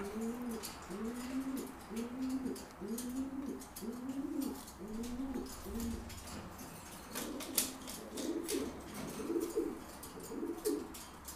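Several pigeons coo in a steady repeating rhythm, close and clear, as a male and female are put together for pairing, with light rustling and faint chirps in the background.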